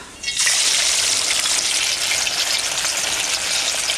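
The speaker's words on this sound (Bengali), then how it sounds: "তেল গরম হয়ে গেছে এখন আমি বড়া ভেজে নেব শোল মাছের বড়া" Snakehead fish fritters drop into hot oil and set off a loud, steady frying sizzle that starts abruptly and holds close and bright throughout, with no voices.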